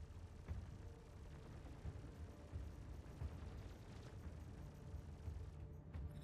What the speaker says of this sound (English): Yeah, look at that explosion.